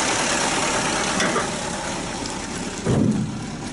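Mercedes-Benz 124 idling with a rebuilt carburetor, a steady close mid-range engine drone with a slight uneven shudder and a louder low surge near the end; no speech.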